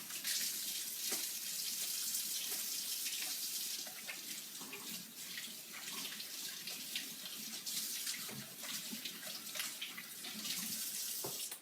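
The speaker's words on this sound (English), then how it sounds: "Let me wash off my hands." Hands being washed under a running tap in a home soap-making session: a steady, close, continuous rush of water splashing into a sink for the whole stretch, with no talking.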